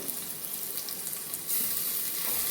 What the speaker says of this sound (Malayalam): ഇത് നമുക്ക് അങ്ങ് ഫ്രൈ ആവും ഇപ്പോൾ ഫുൾ ഫ്ലെയിമിലാണ് ഇത് ചെയ്യുന്നത്